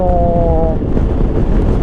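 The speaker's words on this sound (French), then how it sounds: "là on est sur voie rapide. Donc je peux vous dire qu'on prend le vent quand même sur la gueule" Wind buffets a rider on a Yamaha Tracer 900 GT motorcycle at expressway speed, making a loud, close, rumbling roar of wind against the microphone, with a brief tonal whine near the start.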